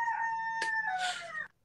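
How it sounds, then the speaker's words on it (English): A chicken on a porch gives a short, clear tonal call with a brief flutter or scrape partway through, close and fairly faint, fading out after about a second and a half. "the chicken's on the porch."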